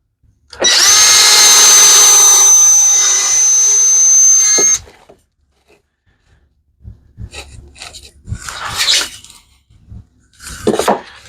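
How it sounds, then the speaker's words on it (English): A power drill whines loudly and steadily for about four seconds, then stops, followed by scattered clunks and handling clatter. "And I'm going to drill these holes first."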